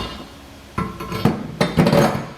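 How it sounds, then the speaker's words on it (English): Bolts drop into the Demco Hijacker above-bed base rails in the bed of a 2017 Ram 2500, giving three sharp metallic clanks and rattles close by after a quiet start. "our bolts drop down in there nice and easy"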